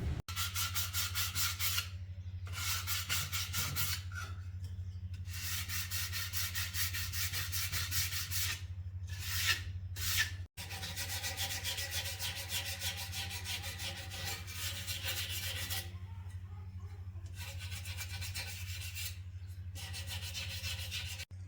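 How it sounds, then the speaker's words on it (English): Bare metal edges of a cast iron spatula cut from an old pan are hand sanded in steady back-and-forth rubbing strokes, a close, rasping scrape broken by short pauses. "So let's get our hand sanding done"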